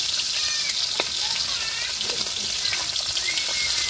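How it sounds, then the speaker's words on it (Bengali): Small bhatua fish fry in hot oil in a pan, making a dense, continuous sizzle heard up close, with an occasional faint scrape. "এই যে মাছ ভাজা চলছে"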